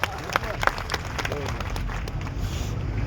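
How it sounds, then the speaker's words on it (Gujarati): A crowd at an outdoor farmers' protest rally claps for Harshadbhai, giving a dense, continuous wash of applause with some crowd noise mixed in, sustained throughout. "હર્ષદભાઈની તાળી વગાડો"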